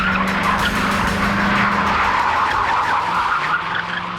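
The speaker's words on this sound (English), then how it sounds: "we wanted a shot where Keanu would slide a 90 right up into camera" A stunt car slides a ninety-degree turn toward the camera, tires skidding loudly over a sustained engine drone for several seconds, with no talk.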